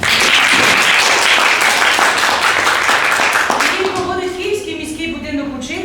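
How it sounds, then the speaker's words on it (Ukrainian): Loud, close audience applause at a creative evening for Oleksandra Orlova rolls for about four seconds, then fades as a voice takes over. "Ваші оплески"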